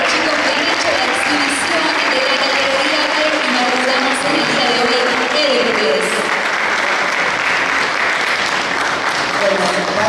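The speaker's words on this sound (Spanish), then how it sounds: "un aplauso fuerte para los chicos" A crowd at a bodybuilding contest applauds loudly and continuously for the competing athletes, with cheering mixed into the sustained clapping throughout.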